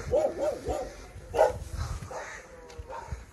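Village dogs barking at strangers: several sharp barks near the start and a louder burst in the middle, with some softer yips and low background noise.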